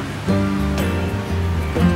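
Ocean waves wash onto the beach at Lennox Head, New South Wales, toward sunset, a loud close rushing surf that swells and stays steady for the whole moment, with no voices.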